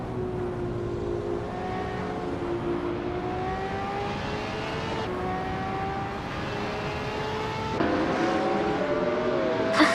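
AI-driven race cars roar through a racing video game, several engines droning steadily together with rising and falling pitch as gears shift, a continuous loud wash of motor noise that swells near the end.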